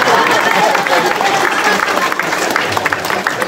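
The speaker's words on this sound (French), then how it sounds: "on peut l'applaudir" A loud school crowd applauds a student at a middle-school event in Charny, a dense, continuous wash of clapping mixed with crowd noise and possible voices.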